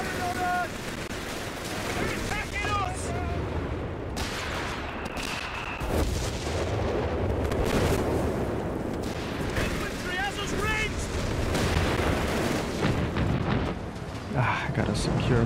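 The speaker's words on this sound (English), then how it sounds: "Commander, we have artillery on standby." Artillery fire and battle noise in the Company of Heroes 3 video game, repeated booming blasts and bursts of gunfire rolling over one another for the whole stretch, with a voice talking intermittently above the din.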